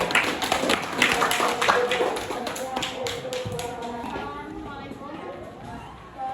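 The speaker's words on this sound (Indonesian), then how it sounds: "beri tepuk tangan" A classroom group gives quick, light applause for a few seconds, many hands patting unevenly, then it fades as voices carry on talking.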